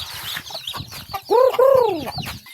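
Chickens cluck and squawk nearby on an island farm, with a couple of loud drawn-out calls in the middle over softer scattered clucking.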